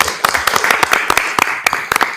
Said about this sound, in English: Let's give this family a round of applause.